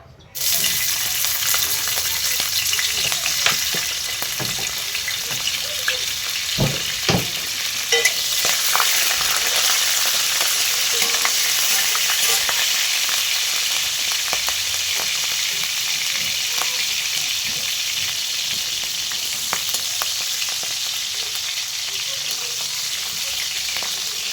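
Green chilies hit hot oil in a pan for a vegetarian masala, giving a loud, steady sizzle that runs unbroken throughout, with occasional scrapes and clinks of stirring and no talking.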